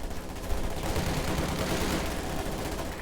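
Dense, sustained MG42 machine gun fire from Company of Heroes 2, a steady, loud rattle of rapid shots blended with battle noise, lasting the whole moment with no voices.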